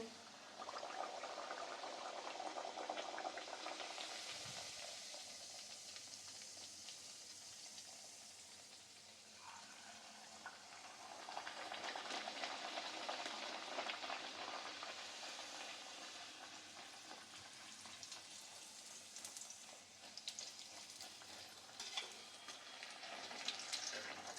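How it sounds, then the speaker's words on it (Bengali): Pea kachoris (koraishutir kochuri) fry in hot oil, giving a loud, continuous sizzle and bubbling that swells and eases over about twenty-four seconds, with no talking. "তেল গরম হয়ে গেছে, এরপরে কচুরিগুলো তেলের মধ্যে ছেড়ে দেবো।"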